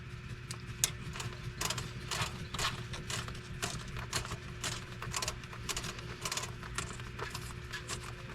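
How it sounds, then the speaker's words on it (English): A screw being backed out of an RC Unimog trail truck, a CR18P Evo Trail Hunter: quiet, rapid ratcheting clicks from a small driver close up, with a faint hum behind them. "Got to unscrew it some more."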